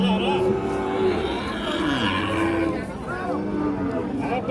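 A Sahiwal bull calf at a cattle market gives long, drawn-out moos, one after another, loud and close amid busy market noise.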